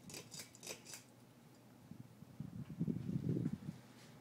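A Hunter Mayfair ceiling fan runs on high speed, giving a faint airy whir with light rhythmic ticking and a soft low rumble that grows a little louder toward the end.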